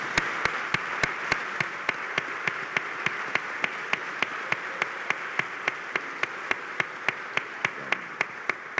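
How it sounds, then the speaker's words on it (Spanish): Audience applause at a science policy congress panel, following news of a new Ministry of Science, Technology, Innovation and Higher Education; a soft wash of clapping runs under regular, evenly spaced sharp clicks. "Creo que merece un gran aplauso ese."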